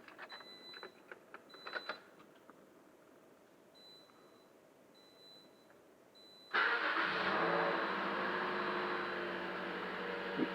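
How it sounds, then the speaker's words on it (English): A car engine cranks and catches after an oil and filter change, then settles into a steady, loud idle after some faint clicks and beeps. "Let's start the engine."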